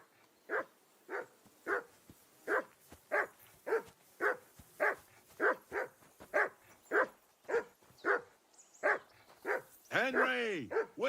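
A dog barks over and over in Kingdom Come: Deliverance II, steady sharp barks about twice a second, close and clear, ending with a brief rushing sound.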